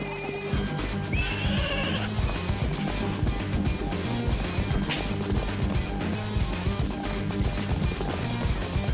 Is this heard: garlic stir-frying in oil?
no